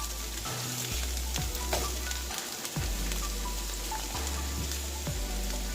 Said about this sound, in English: let's throw in our cabbage